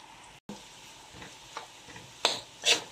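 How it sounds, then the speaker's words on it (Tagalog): Garlic fries in a pan until it browns, a low, quiet sizzle with a few soft clicks and two louder utensil scrapes toward the end. "Ito pong bawang, kailangan mag-brown po siya, no? Hayaan lang muna natin siya hanggang sa mag-brown."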